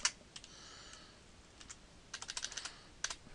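Someone types an ipconfig command on a computer keyboard at a Windows command line: short, irregular bursts of crisp keystroke clicks with pauses between them, close by and with no talk.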